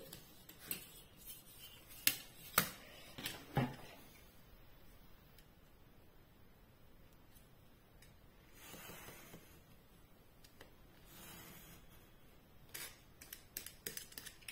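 Scissors snip paper scraps for a scrapbook card, giving a few close, sharp clicks and cutting snips early on, then faint rustling and further scattered snips near the end in a quiet room.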